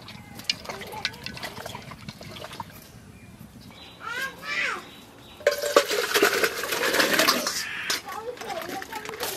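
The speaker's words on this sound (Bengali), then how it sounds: "এখন কড়াই পাবো জল দিয়ে দেবো" After some brief talking, water is poured into a kadai with a sudden, sustained splashing hiss lasting several seconds.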